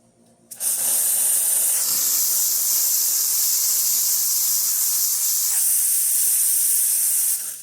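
A loud, steady high-pitched hiss of steam from an Alex Duetto espresso machine's steam wand blasts continuously for several seconds, starting abruptly and cutting off at the end.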